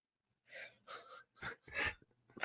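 A person in a studio snorts and gasps several times in short, sharp bursts of breathy noise separated by brief silences, fairly close and quiet.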